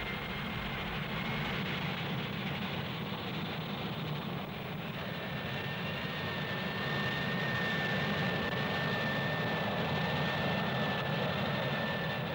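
A Harrier vertical short-takeoff jet roars steadily with a deep rumble and a thin high whine, sustained and fairly distant throughout with no voices.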